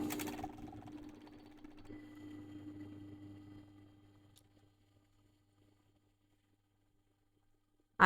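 A sewing machine stitches elastic onto the edge of swimwear fabric, a quiet steady hum that winds down and stops, followed by a brief click at the end.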